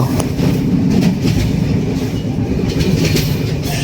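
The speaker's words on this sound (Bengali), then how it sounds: "পদ্মা সেতুর উপর দিয়ে ট্রেন চলাচল এ এক নতুন ইতিহাস।" A train crosses the Padma bridge in Bangladesh on a winter morning. Its loud, close, continuous rumble of wheels and rolling carriages runs through the whole stretch with no talk.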